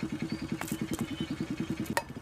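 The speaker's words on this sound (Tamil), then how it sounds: "என்ன சார் சைலன்சரில் சவுண்டு அதிகமாக இருக்கு கொஞ்சம் குறைங்க" A motorcycle with a loud silencer exhaust chugs in a rapid, even, low thumping rhythm near the listener, like an engine ticking over at low revs, with no speech over it.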